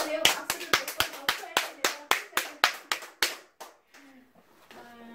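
One person claps about fifteen times in a close, steady rhythm, then stops. A voice speaks briefly after the claps.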